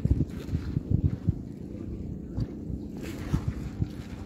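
Strong wind buffets the microphone beside choppy Taal Lake, a steady low rumble with gusting thumps and faint lapping waves, no voices.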